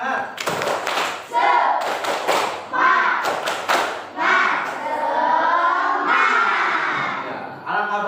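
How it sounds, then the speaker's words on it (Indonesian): A class of children clapping together in a rhythmic pattern, with shouted chanting voices over the claps, close and lively. "Coba tepuk semangat."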